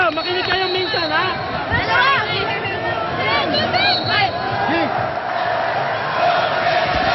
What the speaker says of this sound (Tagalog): The crowd is back into it, especially the UST crowd.